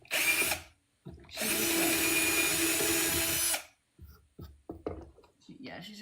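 Power drill boring holes for cabinet doors on a shelf unit, moving from a small bit to a bigger bit and then a hole bit: a short loud burst, then a sustained whining drill run of about two seconds, followed by quieter clatter and a voice.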